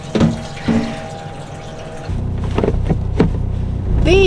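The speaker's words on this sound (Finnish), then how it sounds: "Minkälaista vettä lähtee työkoneen penkeistä" Water runs and splashes off freshly washed work machine seats, a continuous gushing over a low pump-like hum, with a few louder splashing bursts and no talk.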